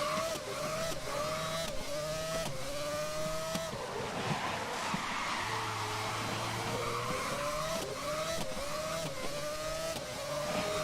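Whining engine tones from the racing game Grid rise and drop with each gear shift, steady and continuous for the whole stretch, with a brief lower hum midway.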